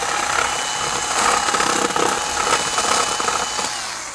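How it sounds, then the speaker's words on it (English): Power drill boring holes in a model railway layout to mount a Tortoise switch machine, a steady whirring grind held close and loud for several seconds with slight fluctuations as the bit cuts. "So the best way to do that is to drill 2 holes side by side and then clean out the middle like this."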